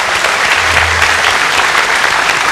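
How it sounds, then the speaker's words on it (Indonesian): An audience greets invited university rectors at a formal event with loud, dense applause that fills every moment, steady and close, with no break and no voice heard above it. "Kita beri tepuk tangan."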